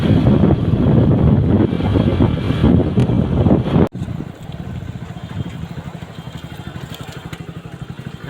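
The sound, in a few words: riding a motorbike, wind noise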